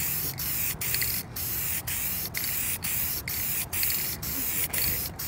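Rattle-can spray paint hissing steadily onto a car fender, a continuous close airy spray broken by brief pauses between passes.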